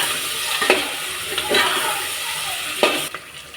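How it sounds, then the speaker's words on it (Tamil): Onions sautéing in a pan for a mint coriander pulao, a steady close sizzle with a few sharp stirring scrapes and clatters of the spatula against the pan. "வெங்காயம் வதங்கிடுச்சு"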